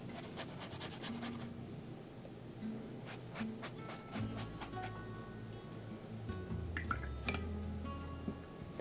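Quiet, scattered splats and drips of wet watercolor paint and water hitting paper, irregular taps and flicks close by with no talking.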